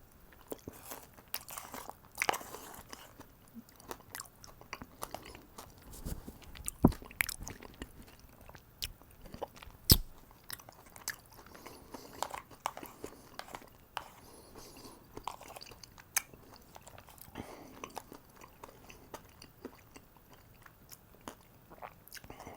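Close-miked chewing of crunchy homemade muesli, with repeated bites, crackly crunches and wet squishes in an irregular rhythm, intimate and moderately loud without speech.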